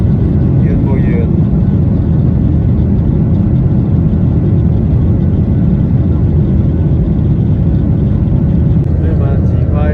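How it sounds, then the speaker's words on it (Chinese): A loud, steady engine roar fills the cabin without a break, a constant deep rumble with a faint hiss above it. "起飞了，飞机起飞了，飞要呼呼了，耳朵要聋了"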